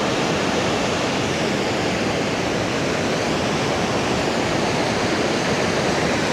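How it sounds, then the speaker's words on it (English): Steady, dense rushing of surf mixed with rainfall on a beach in Da Nang, Vietnam, during a typhoon, a continuous broadband wash with no pauses and no voices. "Somehow rain and the ocean on the beach is really calming down."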